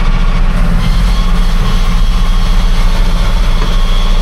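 A tractor runs a PTO-driven hay baler, giving a loud, continuous low engine drone with steady mechanical rumble and a faint rhythmic churn, heard close from the cab with the window open.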